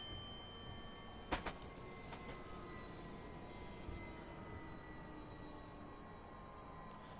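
A Class 395 high-speed train braking in a driving game on the London to Faversham line: a continuous low rumble with high metallic wheel and brake squeals, a sharp clank near the start and a few softer knocks.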